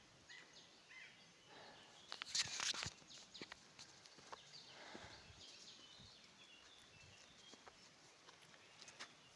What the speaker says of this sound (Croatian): čuju se i ptice.